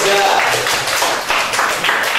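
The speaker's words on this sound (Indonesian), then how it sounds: "berikan tepuk tangan untuk kelompok 3" A classroom audience breaks into quick, dense applause for a group that has just presented, loud and close, with a voice speaking over the clapping.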